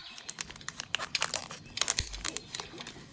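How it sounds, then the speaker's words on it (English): Plastic subscription packaging for nail products crinkles and tears in quick, irregular bursts as it is cut open close by, with a low thump partway through. "Okay, so we'll cut this open."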